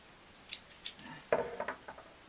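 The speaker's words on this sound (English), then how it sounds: "So I'll cut the end of that off." Scissors snip through fabric for a Christmas Santa cushion, a handful of close, quiet crisp cuts in two bursts, sparse opening snips followed by a quicker cluster of blade closes, no talking.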